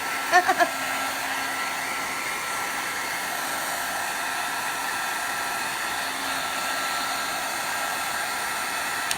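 A heat tool blows steadily to dry a mixed media art background, a continuous loud whirring hiss that holds evenly throughout with a few faint taps at the start.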